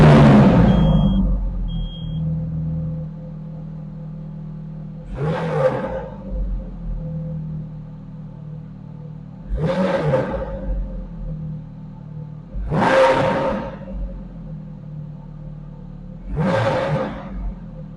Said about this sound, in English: Let's listen to the exhaust note of the Ferrari F430 Spyder.